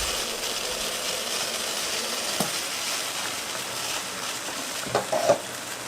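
Soursop leaf tea boiling in a pot on a stove, a steady bubbling hiss running throughout, close by, with a few brief clinks near the end.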